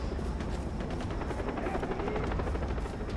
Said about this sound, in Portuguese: Agora tem helicóptero pra ajudar.